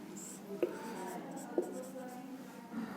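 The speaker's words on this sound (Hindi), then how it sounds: "मैंने कहा श्री बहुत अच्छा लिखती है।" Handwriting scratches across a surface in a few quick strokes, with brief sharper taps, fairly close and quiet against a soft voice.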